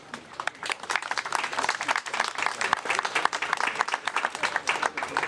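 A large crowd applauds at a press event for the Bovensiepen Zagato, a bespoke coupe based on the BMW M4, in dense, continuous clapping that stays loud throughout.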